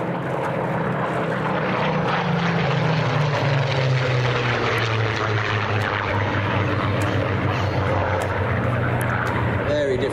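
A Griffin-engined fighter reconnaissance aircraft passing at the Sywell airshow, a loud, sustained propeller-engine roar with a slowly falling pitch as it goes by, heard alone and steady throughout.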